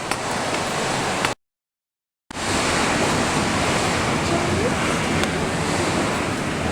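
Strong wind buffets the microphone on a Philippine beach while ocean surf roars steadily, loud and dense, with a brief dropout of total silence early on.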